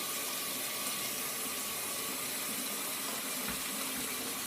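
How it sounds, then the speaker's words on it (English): Ordinary tap water runs steadily into a container being filled to soak saltfish for a stew, a constant broadband rush holding even for the whole stretch with no voices over it. "So there you go, just normal tap water."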